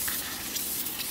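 Brake cleaner hisses from a spray can onto a front brake rotor on a BMW E46, a steady close, bright aerosol spray running continuously.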